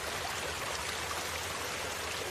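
Steady, even rush of falling water from Nglirip waterfall, roughly 30 metres high and 20 metres wide, a soft continuous broadband wash with no voices.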